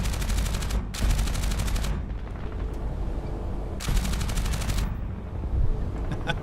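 Rapid machine gun fire from a video game, loud and sustained in long bursts with short pauses between, sharp crackling volleys standing alone with no talk over them.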